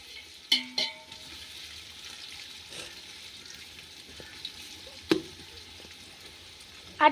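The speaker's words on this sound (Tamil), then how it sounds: "இப்போ நல்லா கிண்டணும். நல்லா ப்ரௌன் ஆகிற வரைக்கும் வதக்கணும்." Biryani ingredients sauté in a pan, a soft low sizzle with a few sharp clinks of a spoon or ladle against the pot as they are stirred, close and quiet with no voices.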